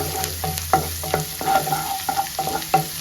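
Ginger and garlic fry in hot oil with a loud, close sizzle as a spatula scrapes and taps against the pan in quick, uneven strokes, with no voices.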